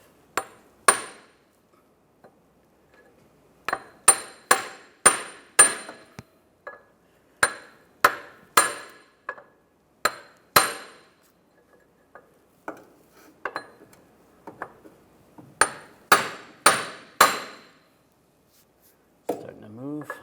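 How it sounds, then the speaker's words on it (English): Sharp metallic taps of a hammer striking a punch against the back of a front CV axle on a 2004-2010 BMW X3, in irregular clusters of blows with quiet gaps between, close and clear. "just take a punch and just grab the back side of the axle and just give it a tap"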